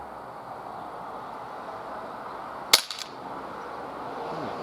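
A non-blowback USP BB pistol fires at cans, giving one sharp, close crack followed by a couple of quick fainter ticks of BBs striking, set against a steady background hiss.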